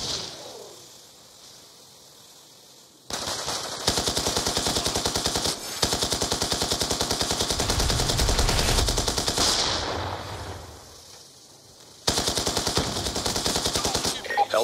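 An MQ-27 Dragonfire drone fires its machine gun during a video game demolition match, in long rapid bursts of sustained fire broken by a few short pauses, with a loud, dense rattle.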